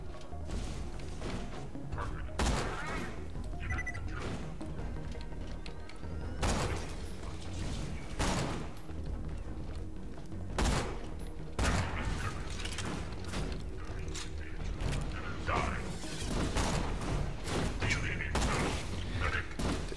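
Gunfire in Borderlands 2, repeated sharp shots scattered over a dense, steady game soundscape of mechanical clatter and effects, fairly constant loudness throughout.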